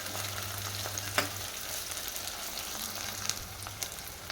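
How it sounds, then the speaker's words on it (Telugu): Medium onions cut into pieces fry in oil for a crab curry, giving a soft, even sizzle with a few faint clinks of a stirring spoon, fairly quiet throughout and without voices. "ఆయిల్ వేసుకున్న తర్వాత ఆనియన్ వేసి ఫ్రై చేసుకోవాలి"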